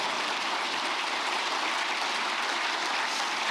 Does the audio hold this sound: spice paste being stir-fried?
no